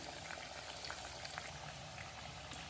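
Sabudana vada frying in hot oil over a high flame, a dense, even bubbling sizzle with tiny crackles, quiet and close, no speech.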